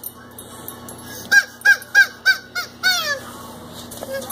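Dixie the dog bites down on a squeaky Kong Squeakies toy, producing a run of six or seven sharp, honking squeaks in an uneven rhythm, loud and close, with faint background hum between them.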